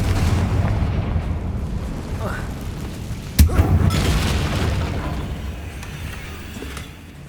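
A Confringo blasting spell explodes in the video game Hogwarts Legacy, a sharp loud boom landing midway through a rumbling game battle, its low roar decaying over the following seconds.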